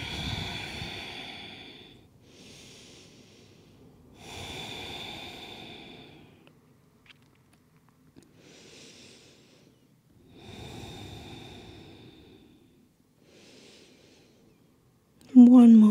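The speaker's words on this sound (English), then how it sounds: "One more deep breath here." Deep, slow breaths during a yoga mandala flow come close to the mic as long airy inhales and exhales, several cycles separated by quiet pauses, followed by a brief voice at the end.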